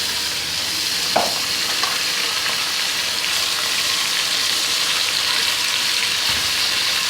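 Meat sizzling in a pot with reddened fried onions and whole garam masala spices for Sindhi biryani, a loud steady hiss of frying with occasional stirring clinks, no talk.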